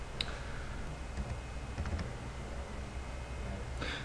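Serial number typed on a computer keyboard during a SolidWorks 2013 install, heard as faint, sparse key clicks over a steady background hum, with a brief burst of taps near the end.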